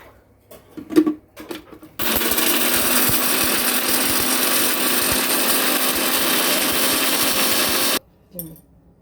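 A mixer grinder whirs loudly and steadily for about six seconds while grinding ginger, garlic and whole spices into a paste in a home kitchen, cutting off abruptly, with brief talk and clatter before and after.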